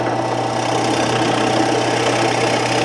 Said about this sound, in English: Go ahead and just drill your hole through